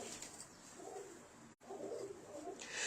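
Soft pigeon cooing, a few low murmuring coos close by, with a brief dropout partway through.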